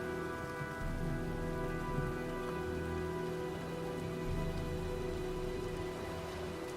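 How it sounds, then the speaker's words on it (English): Steady storm rain pours in the video game Heavy Rain, a dense continuous hiss of drops on surfaces, loud and unbroken, with a low tonal hum beneath and no talking. "Well, looks like a storm's coming."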